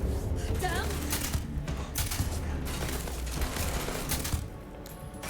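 Rapid bursts of gunfire from a weapon in the video game Starfield, dense and loud in several clusters across the stretch, with a voice speaking over parts of it.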